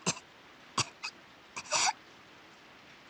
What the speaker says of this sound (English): Yeah, the voice actor's got the coughing,